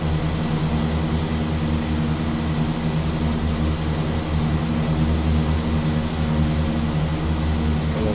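Engine drone of a twin-propeller Tecnam P2006T in the X-Plane 12 flight simulator, climbing out on a Hawaiian island hop: a constant loud, even hum with a low throb, with no talking.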